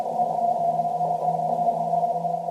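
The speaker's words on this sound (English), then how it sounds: "here's the sound of a commuter train in Singapore with no noise control" Steady low rumble and tonal hum of a commuter train in Singapore with no noise control, continuous and droning at moderate level for a few seconds, nothing else heard.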